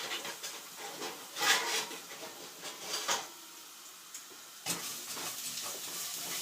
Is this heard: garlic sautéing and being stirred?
yes